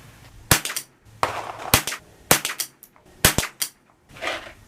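Shots from a High Standard Sport King .22 pistol firing Federal Auto Match ammunition: sharp, loud cracks, about eight in uneven pairs and singles over a few seconds, with no talk.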